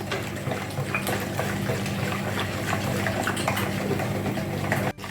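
One litre of water pours steadily into a bowl of dough for fried cabbage pies, a continuous close splashing rush that cuts off abruptly near the end.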